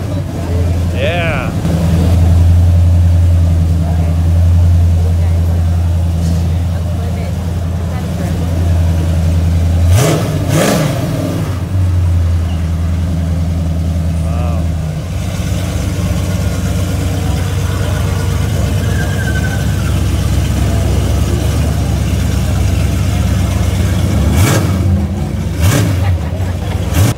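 A classic car's engine at a Hermosa Beach car show rumbles close by at idle, with a couple of sharp revs blipping up and dropping back, and people talking nearby.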